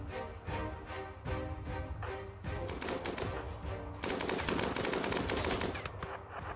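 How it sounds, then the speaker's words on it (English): Minigun fire in RimWorld: rapid, continuous rattling bursts of gunfire with dense overlapping shots, steady and fairly close throughout with no pauses. "you're minigunning me at point blank and you missed?"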